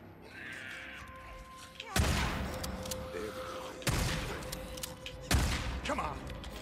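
Three loud, well-spaced gunshots ring out in the Days Gone video game, each a sharp blast with a lingering tail, over low ambient game sound and a faint voice.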